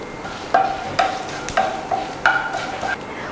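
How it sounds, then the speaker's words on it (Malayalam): Urad dal and mustard seeds frying in oil in a pan for coconut chutney, with several distinct clinks of a spoon stirring against the pan over a soft sizzle. "ഇനി നമുക്ക് ഇതിനകത്തോട്ട് ഉഴുന്നുപരിപ്പ് ചേർത്ത് കൊടുക്കാം. നന്നായിട്ടൊന്ന് മിക്സ് ചെയ്ത് കൊടുക്കുക."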